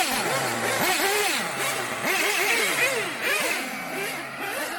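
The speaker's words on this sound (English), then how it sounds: "there's a lot of noise and revving of the engines the whole time" Several nitro RC race car engines scream around a track, whining up and down in repeated rising and falling sweeps as the cars pass, a loud continuous buzz with no voices.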